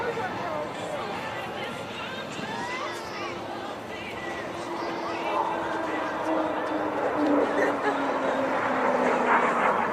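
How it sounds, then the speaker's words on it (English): Royal Navy T7 and G811 jets fly a display at the Dunsfold Wings and Wheels 2011 airshow, their engines a distant, steady drone that swells toward the end beneath continuous announcer talk and crowd murmur. "And that is a T7 aircraft and a G811 aircraft from the Royal Navy."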